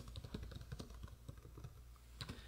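Quick, irregular keystrokes tapping on a computer keyboard at close range, a steady run of light clicks with no talking.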